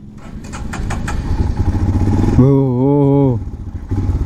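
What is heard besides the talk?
Royal Enfield Himalayan motorcycle engine starting and running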